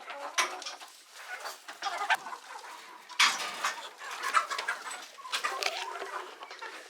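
Backyard chickens clucking near their coop during a fall cleanout, several birds giving repeated close clucks and squawks in irregular bursts with no talking.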